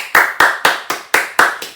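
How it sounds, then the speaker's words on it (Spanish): Seven sharp, evenly spaced hand claps from a single person at close range during a Korean lesson, each crisp slap fading quickly before the next. "Un aplauso."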